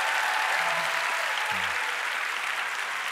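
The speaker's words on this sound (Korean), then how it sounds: "우리 이 시간에 우리의 사랑을 담아서 큰 박수로 우리 목사님 맞이할까요?" A church congregation at a Korean young adults' worship service breaks into warm, sustained applause to welcome their pastor, a dense, even clapping from a large crowd that holds steady throughout.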